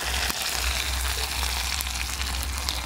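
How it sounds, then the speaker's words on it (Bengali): Chopped onion and tomato fry in a pan of spice tempering with whole cumin, giving a steady, close hiss of sizzling oil with no talk over it. "এবার এর মধ্যে দিয়ে দেব পেঁয়াজের কুচি, এর সাথে দিয়ে দেব টমেটো কুচি।"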